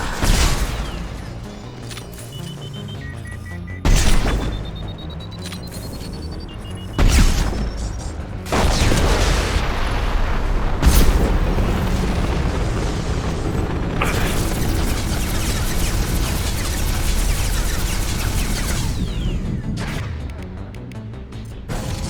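Heavy artillery fire and explosions in a video game, a series of loud booming blasts at intervals followed by sustained rumbling and crashing, with no voices.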